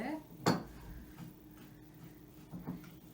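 A spoon stirs a homemade breakfast sauce in a bowl, giving a few faint, scattered clinks and scrapes against the dish in a quiet kitchen, one sharper knock standing out near the start.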